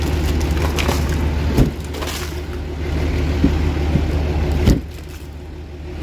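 Ice is scraped off car windows after a Nebraska ice storm, with rough gritty scraping strokes over a constant idling engine hum and a couple of sharp scrapes or knocks standing out.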